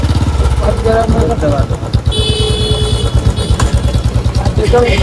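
Motorcycle engine thumping at idle and shifting into first gear for a beginner rider, a loud close rhythmic putter with a brief gear change, while a person talks over it.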